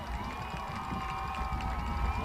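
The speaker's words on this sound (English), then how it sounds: "You can hear the rumbling. It's loud here at Tiger Stadium." A football crowd in Tiger Stadium rumbles in a steady, dense roar with scattered cheers, loud and continuous throughout, with faint voices in the mix.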